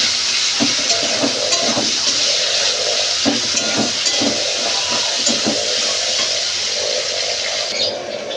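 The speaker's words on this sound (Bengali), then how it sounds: "দিয়ে দেবো কেটে রাখা পেঁয়াজ। পেঁয়াজগুলো আমি ভালো করে লাল লাল করে ভাজি করে নেব।" Chopped onions frying in oil with cardamom and cinnamon, a steady close sizzle and hiss with soft scraping stirs, preparing a crab and potato curry; no talking.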